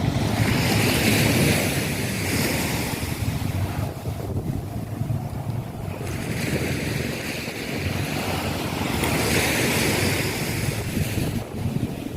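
Sea waves roll onto a beach, with steady surf and a wind rush that rises and falls in two broad swells. The microphone also picks up wind buffeting, and no one speaks.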